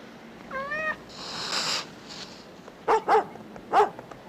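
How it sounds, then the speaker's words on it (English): A dog barks on a movie studio lot: three sharp barks, close and fairly loud, one pair in quick succession and a single bark after, following a cat-like meow and other scattered background noises. "Hey, you better go get your dog, Danny"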